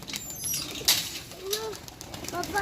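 Pigeons at a pigeon club loft, a burst of wing flapping followed by soft coos and faint chirps, close and fairly quiet, with a little background talk.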